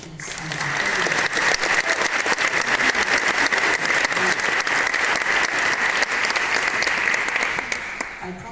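An audience at the Latitude 59 tech conference in Tallinn claps steadily and strongly in a hall, a dense, even wash of applause that rises in the first second and holds to the end.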